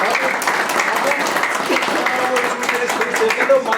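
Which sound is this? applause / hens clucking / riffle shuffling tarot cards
applause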